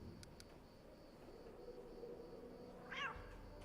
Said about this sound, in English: I like this cat. I want the cat.